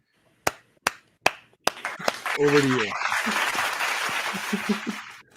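Four sharp, evenly spaced hand claps ring out close and crisp, then give way to someone talking over a burst of applause.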